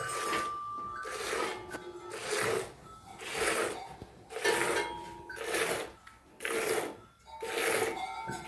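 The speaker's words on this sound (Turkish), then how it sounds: "Bak iki elimden sağıyorum." A cow is milked by hand with both hands, and streams of milk hit a container in regular rhythmic bursts, roughly one per second. The sound is close and fairly loud, with no talking over it.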